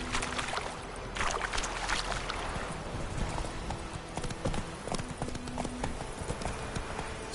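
Hooves of Geralt's horse clip-clop at a steady galloping rhythm in The Witcher video game, close and fairly loud, with ambient game sound and a faint low hum underneath.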